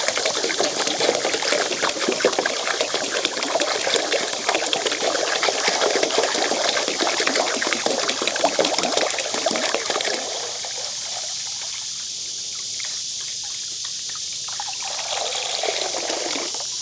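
Water pours steadily into a pet's bowl, a loud continuous trickling splash for about ten seconds before dropping to a quieter dribble and near silence.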